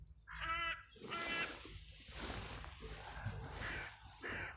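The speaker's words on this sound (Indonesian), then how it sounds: "Burung." Crows caw outdoors in harsh, repeated calls from several birds. The calls come in uneven bursts over quiet background noise, fairly faint and somewhat distant.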